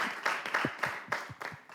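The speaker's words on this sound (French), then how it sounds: "Applaudissez" Scattered hand clapping for a champion, a small group giving a short round of applause with distinct irregular claps, fairly close and moderately loud.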